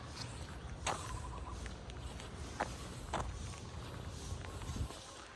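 Quiet footsteps crunch at an uneven pace over a low outdoor rumble, with a few sharper scuffs standing out.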